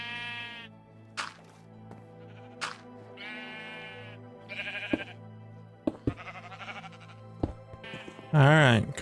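Minecraft sheep bleat in a farm barn built over a lake, several short bleats spaced apart over a steady low background hum, with one louder wavering bleat near the end.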